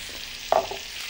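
Diced green and red peppers frying in a pan, a soft steady sizzle with one brief stirring scrape in the middle, close and short, with no voices.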